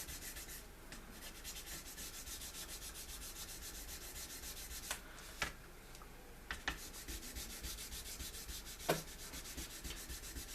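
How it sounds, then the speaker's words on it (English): A plastic scale model of an XB-70 Valkyrie is wet-sanded with fine sandpaper, making a faint, continuous soft rubbing hiss close by, broken by a few light taps and knocks, with no speech. "This sandpaper you can use with water."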